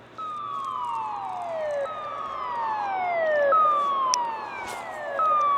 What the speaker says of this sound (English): I don't know if they do the sirens like 15 minutes early.